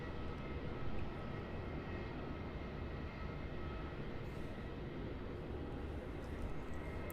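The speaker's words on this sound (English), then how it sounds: "departing off runway 34, a Jetstar A320-200, operating as JQ 780 to Adelaide" A Jetstar Airbus A320-200 jet departing from runway 34 at Melbourne Airport, heard at a distance as a steady, broad engine roar that holds level throughout, with no talking.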